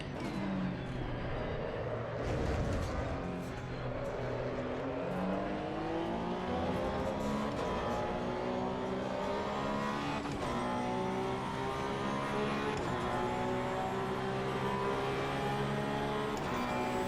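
A race car engine from the Assetto Corsa EVO racing game drones loudly and steadily, its pitch climbing and dropping through repeated gear shifts, with a faint tire squeal in a continuous, close in-car sound.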